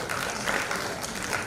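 An audience applauds at an international conference on inclusivity during a vote of thanks, with steady, moderate clapping that carries evenly from start to finish.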